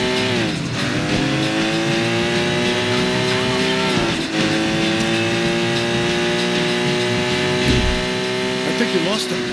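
A car in the video game Sleeping Dogs is driven hard, its engine droning steadily with rising and falling pitch and brief squeals of tires through sharp turns, loud and continuous throughout.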